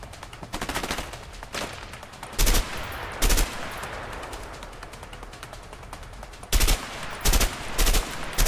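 Bursts of gunfire from the video game A Way Out: loud, sharp shots, some in quick rapid-fire clusters, over a steady background of game ambience.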